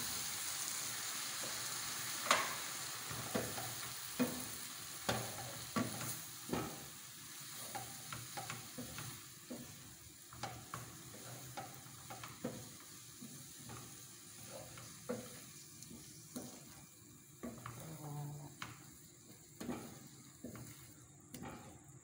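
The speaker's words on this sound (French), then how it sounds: "Après le poireau que j'ai mis au feu." Leeks cook in a pan on the stove, giving a steady sizzle and frying hiss broken by repeated scraping stirs and clinks of a utensil, close and moderately loud with no talking.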